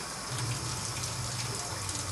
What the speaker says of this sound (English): Also notice I got the water running because you steadily got to wash your hands with this.